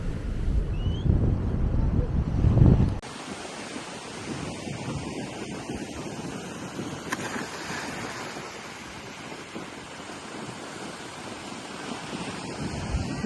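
Sea waves wash steadily beside a sheltered rock pool on South Africa's Wild Coast near Port St Johns, a soft continuous surf hiss with wind, louder and rougher for the first few seconds.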